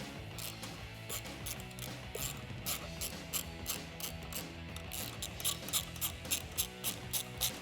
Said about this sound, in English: grab a 10mm socket and wrench and tighten them down